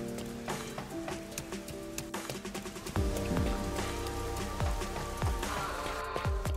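Red rain falling in the video game Rain Code, a steady patter of drops on surfaces with heavier splashing hits joining partway through, fairly quiet and with no speech.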